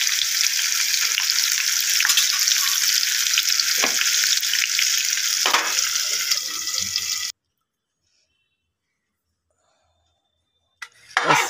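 Sliced onions frying in oil in a pan, a loud, dense, close sizzle with a few stirring knocks that runs for several seconds, then cuts to near silence before a brief burst of noise returns.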